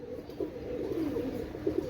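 A pair of Pakistani KTM Teddy pigeons coo steadily and close by, a low throbbing call repeating without pause over faint background hum.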